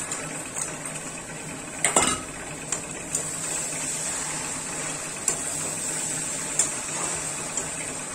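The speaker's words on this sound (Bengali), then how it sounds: "আমি এবার বড়িটা ঢেলে দিচ্ছি।" Bori lentil dumplings tumble into a vegetable curry with a bright clatter, followed by scattered metallic clinks of a spoon against the pot over a steady hiss.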